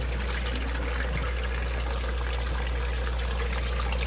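Water trickling and running steadily as items are rinsed, a continuous close hiss under a constant low hum, with no voices.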